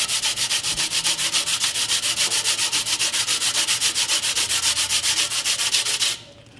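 Rhythmic back-and-forth strokes of 120-grit sandpaper rasp against a carbon composite blade patch, about five per second, close and steady for several seconds before stopping abruptly.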